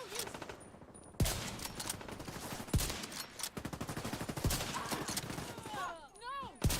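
Gunfire in the looter-shooter The Division 2: a series of sharp, loud shots at irregular intervals over continuous rattling automatic fire, with a rising whine near the end and no speech.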